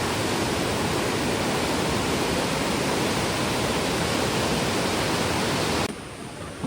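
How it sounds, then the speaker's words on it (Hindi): Fast glacial river rushing down from Gangotri in the Himalayas, a loud, steady broadband roar of turbulent water that fills the whole stretch and drops slightly in level near the end. "गंगोत्री से देखो ये बहता हुआ आ रहा है पानी, देख रहे हो गाइस क्या वेग है।"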